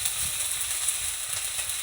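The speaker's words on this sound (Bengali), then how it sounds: "এবার আমি একটু নাড়াচাড়া করে নিচ্ছি চিকেনটা।" Chicken with beans, carrots, cauliflower and sweet corn sizzles in a pan while being stirred, a steady soft hiss and crackle with faint scraping underneath, alone and close.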